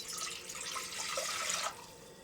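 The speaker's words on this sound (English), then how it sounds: "Add the cups of water." Water is poured from a container into a cooking pot on a camp stove. A bright splashing pour runs for under two seconds, then cuts off into quiet.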